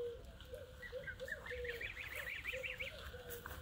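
Greylag geese and a white goose honk nearby in a rapid string of repeated nasal calls, some overlapping, over steady farmyard background noise.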